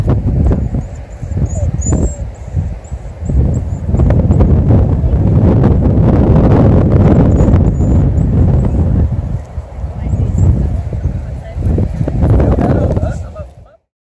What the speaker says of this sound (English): Really windy here on the coast today.